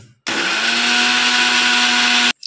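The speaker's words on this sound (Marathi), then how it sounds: "आता आपण मिक्सरमध्ये पेस्ट करून घेऊया।" Kitchen mixer grinder blending ginger, garlic and fresh coriander into a fine paste for chicken biryani, one steady loud whirring run of about two seconds that starts and stops abruptly.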